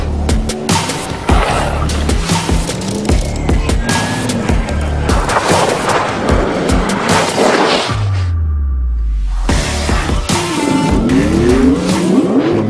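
A car driving on snow and ice, engine revving and rising and falling as the tyres squeal and skid through slides, loud and close with a steady roar throughout and a brief drop-off midway.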